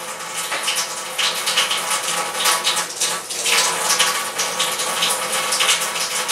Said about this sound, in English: So I'm waiting for the water to run.